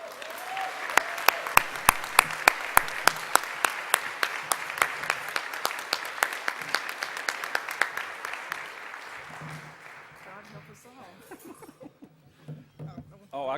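Applause from an audience at an annual conference awards luncheon, a room full of clapping that builds steadily, then thins out and fades toward the end as talk resumes.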